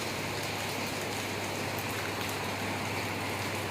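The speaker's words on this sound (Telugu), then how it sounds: "వర్షం స్టార్ట్ అయింది" Steady rain falls continuously, a dense even hiss with patters of drops on a surface, with a low auto-rickshaw engine hum underneath.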